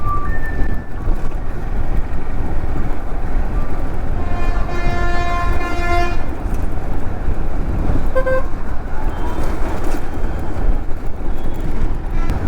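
Trucks queue at a highway toll plaza amid a constant loud rumble of engines and traffic, with a long, drawn-out horn blast in the middle and a shorter honk a little later.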